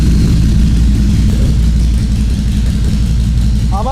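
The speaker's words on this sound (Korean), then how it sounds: "시동 한번 걸어보도록 하겠습니다." A Harley-Davidson Forty-Eight motorcycle with a drilled-out stock muffler rumbles loudly and up close in a deep, steady, throbbing idle just after starting.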